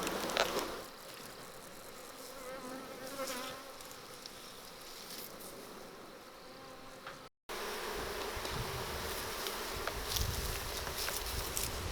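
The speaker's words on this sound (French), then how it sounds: "il y a une abeille qui est venue droit m'attaquer là" A dense swarm of bees buzzes steadily around a beehive during a honey harvest at a survivalist homestead, a continuous close drone with individual insects darting past, no speech.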